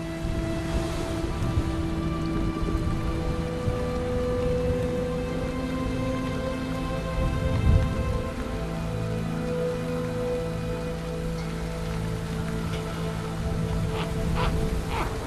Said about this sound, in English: freezing rain like this can be a killer